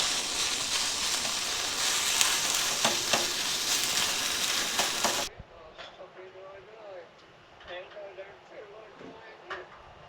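Soup ingredients sizzle and crackle loudly in a pot on a camp stove at a lakeside winery campsite for about five seconds, then the frying falls to faint intermittent clinks and rustles.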